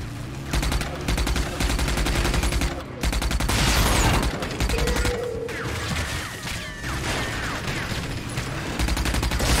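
Heavy, sustained automatic gunfire in the shooter game Rage, with rapid bursts running almost without pause, a brief break, and then more loud fire with mechanical clatter.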